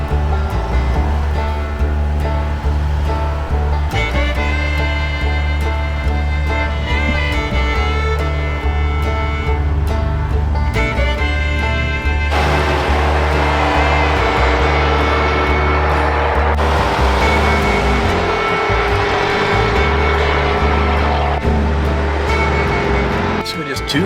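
A vehicle driving over a rough, bumpy road gives off a loud, continuous engine and road drone close by, with jolts and rattles shifting through the noise.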